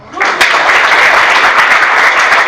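An audience at a talk on the Anti-Corruption Bureau breaks into clapping that swells quickly and holds as loud, steady applause.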